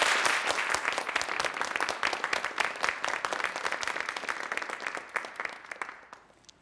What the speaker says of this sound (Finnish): Raikuvien aplodien saattelemana Panu Artemiev.